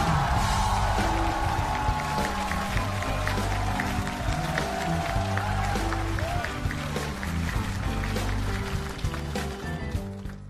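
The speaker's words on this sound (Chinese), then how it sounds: "那我们热烈的掌声，送走周老板。" Studio audience at a Chinese stand-up comedy competition show clapping steadily and loudly for the full stretch, a dense crackle of many hands with a few voices mixed in and music playing underneath.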